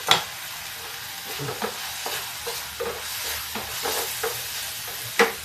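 Tomatoes tossed into kantola sabji frying in a pan give a steady sizzle, punctuated by a series of sharp stirring scrapes and clacks at irregular intervals, the loudest at the start and near the end.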